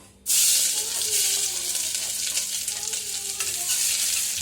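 Ginger and garlic drop into about one and a half tablespoons of hot oil and burst into a loud, sudden sizzle that stays strong and crackling, with faint stirring scrapes underneath.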